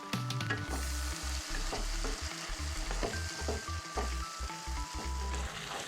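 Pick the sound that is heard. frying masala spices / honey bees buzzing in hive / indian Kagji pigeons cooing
frying masala spices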